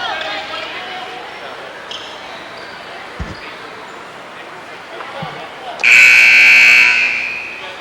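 At a 2002 high school basketball game between Salem and Wayne, a loud gym buzzer blares for over a second at the end of a quarter. Before it come crowd noise and a couple of sharp ball bounces on the court.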